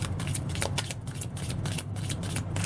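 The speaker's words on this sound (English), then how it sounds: "I have shuffled offline, but, you know, sometimes I have to shuffle online too." Close, continuous riffling and flicking of tarot cards being shuffled, with quick irregular papery snaps.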